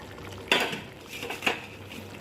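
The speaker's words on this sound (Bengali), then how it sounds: "ভাজা পেঁয়াজটা এখন দিয়ে দিচ্ছি" Fried onions go into a pan of butter methi chicken, two sharp metallic clinks of a spoon against the pan about a second apart over a quiet background.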